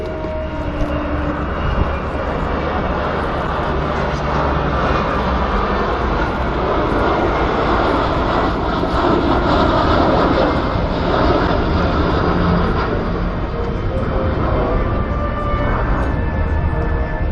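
Airliner on approach with landing gear extended at an airport meeting, a loud sustained engine roar that stays broad and steady as it passes overhead, nearby and continuous.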